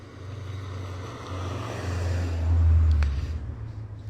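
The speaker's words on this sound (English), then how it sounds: "Here's a car speeding along." A loud car speeds past on a road outside a house, its engine rumble swelling to a peak near the end before easing, heard alone without talk.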